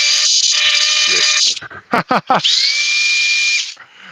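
A DeWalt drill spins at full speed with a loud, steady high whine, briefly stutters through a few short bursts, then runs up again and winds down, with a voice talking briefly over it.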